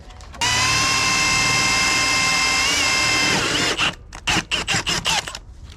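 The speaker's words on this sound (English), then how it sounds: "I'm gonna drill the hole, offset it, just so that the bolt doesn't interfere with each other" A power drill bores a hole for an intercooler mount on a 1996-2000 Honda Civic K-swap turbo setup, running loud and steady for about three seconds, then pulsing in short bursts as the trigger is feathered.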